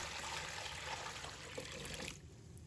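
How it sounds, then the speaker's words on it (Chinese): Clean water pours steadily from a tap into a bowl holding squid, a close, continuous gushing that cuts off near the end. "倒入清水"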